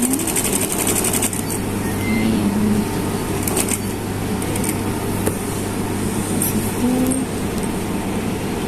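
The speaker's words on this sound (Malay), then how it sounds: "Lepas tu yang ni kita kena jahitan mata kasar nombor 5" A sewing machine runs steadily at close range, sewing women's slacks with a coarse stitch set to number 5, a continuous mechanical whir with a low hum underneath and no pauses.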